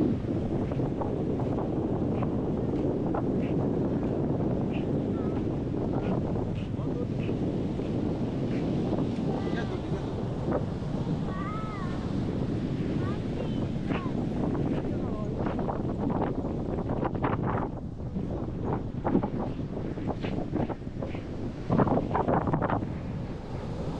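Wind and surf at Cuddalore OT beach: strong gusts buffet the microphone over a continuous rush of waves, while voices talk throughout.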